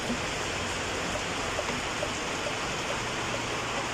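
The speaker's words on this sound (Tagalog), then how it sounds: "Lakas ng tulo." Rainwater leaking through the roof into a small shop during a downpour, heard as a dense, constant rushing hiss of falling and splashing water with no pauses, close and fairly loud.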